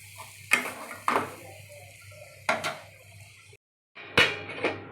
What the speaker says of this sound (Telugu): ఇప్పుడు దీన్ని బాగా కలిపి 2 నిమిషాల పాటు మగ్గనివ్వండి